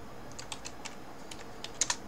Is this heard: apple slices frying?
no